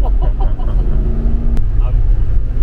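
A Lexus GX 470 engine drones low and steady under light throttle on a test drive, heard from inside the cabin, with brief muffled voices near the start.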